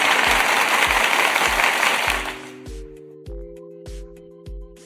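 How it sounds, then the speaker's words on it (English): A crowd's applause fills the first couple of seconds as a dense wash of clapping, then fades out. Regular low thumps of a beat with a repeating tone continue on their own. "Let's give another clap and a round of applause to the Lakers role players."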